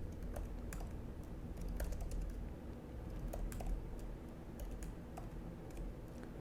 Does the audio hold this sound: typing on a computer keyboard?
yes